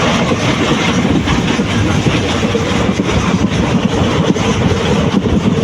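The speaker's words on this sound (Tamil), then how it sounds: "ட்ரெயின் செம்ம வேகம் வந்துருச்சுங்க" A passenger train on the Tenkasi to Tirunelveli line, heard from inside, roars along at high speed with a loud, steady rumble and rattle of carriages.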